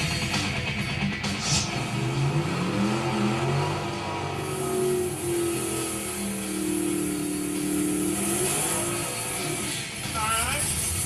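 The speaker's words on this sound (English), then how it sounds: "Semi-mellow burnout, but we'll take it." A 1964 Mercury Comet Caliente drag car roars through a mellow burnout at a drag strip, engine revving and rising in loud swells with crowd chatter and voices mixed in.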